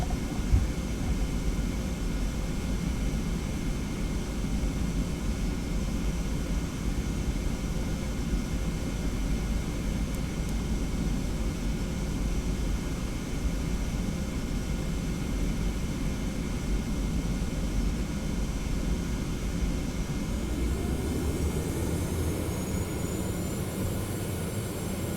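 Aircraft engines roar in a steady, dense drone heard from inside the cabin during takeoff, a constant loud rumble that shifts in pitch toward the end as a rising whine appears.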